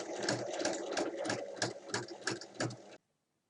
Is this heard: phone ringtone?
no